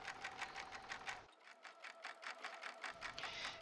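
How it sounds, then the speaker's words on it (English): An embroidery machine stitching an applique tack-down line, a fast even mechanical rattle of needle strokes, steady and close, without voices. "now I'm stitching out the tack down line"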